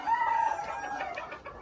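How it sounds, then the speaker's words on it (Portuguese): An ornamental silver-laced rooster crows in one loud, drawn-out call that breaks into a few short clucks, heard close with no talking. "Olha o galo."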